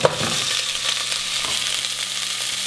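Meat and minced garlic brown for spaghetti sauce, hissing steadily and closely with a brief scrape of stirring at the start.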